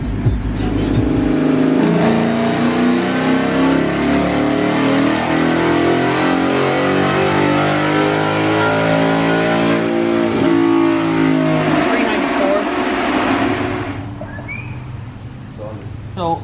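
A Dodge Hellcat with a tune and exhaust revs hard on a dyno, a loud, close engine roar climbing steadily in pitch for over ten seconds before dropping away as it winds down.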